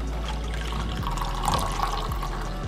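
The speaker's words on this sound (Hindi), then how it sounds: "अब इसमें मैं डाल दूँगी आधा कप गर्म पानी" Half a cup of hot water poured into a glass holding a pinch of roasted cumin powder, a steady, close, continuous splash and trickle of liquid with no talking.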